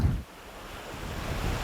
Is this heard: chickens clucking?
no